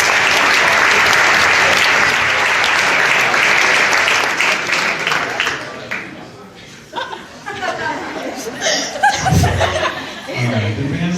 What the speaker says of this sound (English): Give them a nice round of applause for that.